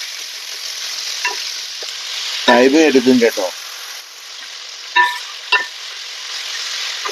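Four sliced onions softening in a hot pan in a Kerala chicken masala, a steady sizzle with a few scraping stirs, under brief talk from a nearby speaker.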